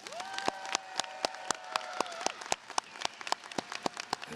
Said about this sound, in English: let's give our graduates, Oyler's class of 2026, a round of applause